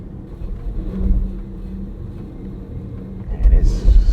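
A medium SUV rolls onto the throttle during an off-road wheel test, its engine a low rumbling drone that swells near the end, with people talking over it.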